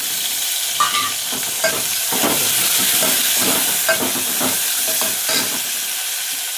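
Tomato being stirred in a hot pan for yogurt rasam, loud sizzling frying with repeated scraping strokes of a spoon at an irregular rhythm, close up and without speech.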